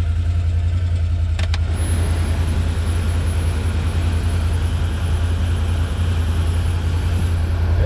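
Can-Am Defender UTV engine idling steadily as it warms up, a loud, constant low rumble with a brief rattle near the start and no talking.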